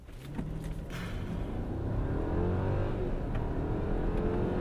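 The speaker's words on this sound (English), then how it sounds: "So let's mash the throttle." A Mercedes S550 4MATIC in sport mode pulls away hard under full throttle, its engine note climbing from a low rumble into a steady, loud, rising roar that holds to the end, with no one talking.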